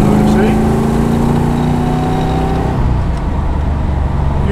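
A 1982 Ford Fairmont XE ESP with a 5.8L V8 idles steadily, a deep loud rumble from close by, fading slightly near the end.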